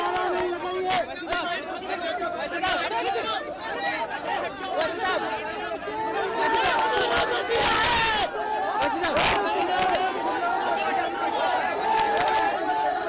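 A dense crowd gathered around a politician in Jahangirpuri, a loud continuous babble of many voices with shouts and cries rising throughout, peaking in a burst of cheering near the middle.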